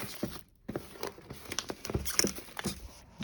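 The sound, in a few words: plastic wrap being taken off Skullcandy headphone packaging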